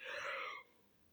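A single breathy yawn, close and fairly loud, drawn out for about half a second before trailing off into quiet.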